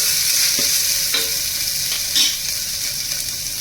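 Garlic and chilli paste sautéing in oil in a pan, a bright continuous sizzle broken by a few sharp stirring scrapes, close by and without speech.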